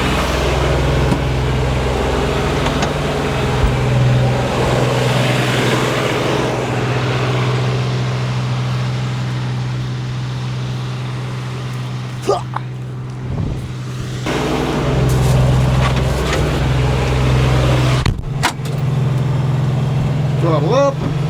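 A Kioti CS2530 compact tractor engine runs at a steady, loud drone outdoors, throttling up, with wind buffeting the microphone and two short dips in level.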